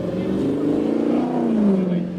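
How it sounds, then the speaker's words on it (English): A Toyota 5-liter engine with Yamaha cylinder heads revs loudly up close, a deep steady drone that rises slightly in pitch before easing off. "that is the sound of a Toyota 5-liter engine with Yamaha heads"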